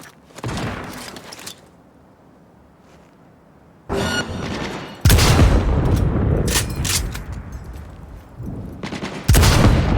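Turret gunfire in the video game Cyberpunk 2077 comes as loud, dense bursts of automatic shots, with a quieter gap in the middle before heavy sustained firing returns and builds toward the end.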